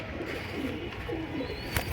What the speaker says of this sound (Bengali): এটা গ্রিজেল দামাসিন দেখেন খুব সুন্দর কবুতরটা